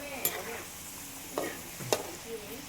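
French fries fry in oil over medium heat while being stirred, giving a soft, steady sizzle with a few sharp scrapes and clinks from the stirring utensil.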